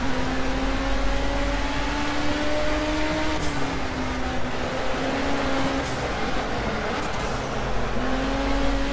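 A Ford race car engine in the racing video game Project Cars holds a steady mid-pitched drone with gentle shifts in pitch as the car drives, continuous and moderately loud, without speech.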